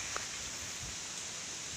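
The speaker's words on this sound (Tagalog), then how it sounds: "Kasi malakas yung ulan ngayon." Heavy rain driven by strong wind outdoors in the countryside, a steady unbroken hiss with faint low rumbles that stays even throughout, with no voices.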